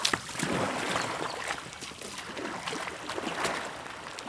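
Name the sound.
paddling an R1 whitewater raft in water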